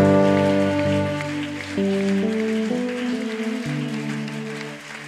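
A church congregation applauds in a steady, dense wash of clapping, with sustained organ or keyboard chords playing alongside.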